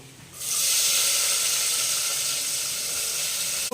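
Chopped onion hitting hot oil with cinnamon and cloves in a pan for vegetable biryani, a sudden rise into a loud, steady bright sizzle that holds evenly to the end, close by with no voices.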